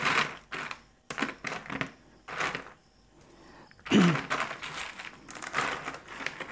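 Orchid potting mix is poured into a pot in several separate bursts of close, gritty rustling and crunching, with short quiet gaps between pours.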